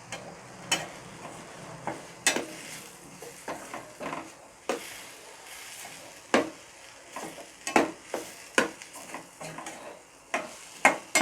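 Masala stirred into a frying crab gravy in a pan, with a bed of sizzling under repeated sharp scrapes and clacks of a spoon against the pan at irregular intervals, close by and without talk.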